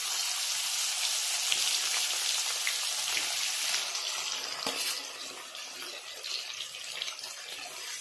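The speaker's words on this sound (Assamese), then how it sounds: "মাছখিনি আমাৰ ফ্ৰাই হৈ গ'ল" Pieces of fish rubbed with turmeric and salt fry in hot oil, producing a loud, dense, hissing sizzle that steadies and eases slightly partway through, with no one speaking.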